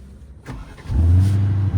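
An Aston Martin 4x4 engine fires up close by partway through, settling into a loud, steady low idle rumble with no talking.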